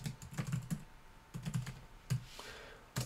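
Keys clatter on a computer keyboard in quick, uneven clusters of close clicks, with short gaps in between and a few louder isolated taps over faint room hum.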